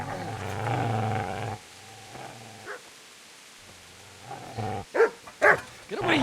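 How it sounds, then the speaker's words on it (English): In the medieval video game Kingdom Come Deliverance, a dog growls low and steadily, then after a quiet stretch lets out a few sharp, close barks near the end. "Get away, you mutt!"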